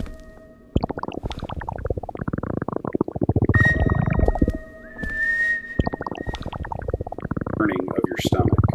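A stomach rumbling sound effect, a dense, gurgling churn running continuously with brief gaps, joined midway by thin whistling tones.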